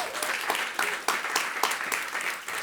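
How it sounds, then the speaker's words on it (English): Indoor audience applause, a steady patter of many hands clapping at moderate distance for a few seconds. "Give them a round of applause, please."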